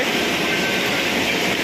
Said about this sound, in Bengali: আর এই যে ট্রেনটা দেখছেন